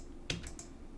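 A few quick computer keyboard key presses while modeling in Blender, soft close clicks in a quiet room.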